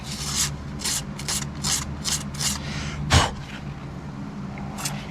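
Hand sanding of a canvas repair on a pop-up travel trailer with 400 grit sandpaper, a series of short scratchy rubbing strokes in an uneven rhythm, close by, with one brief louder scrape.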